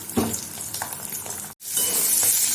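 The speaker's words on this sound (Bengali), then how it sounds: "ডিমটা ভেজে নিই।" An egg fries in a hot pan, a loud, close, continuous sizzle with a few sharp crackles and spatters that briefly drops out, then returns brighter.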